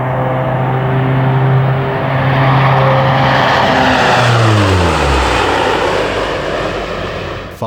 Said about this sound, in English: The RNZAF's Lockheed P3 Orion aircraft are operated by No.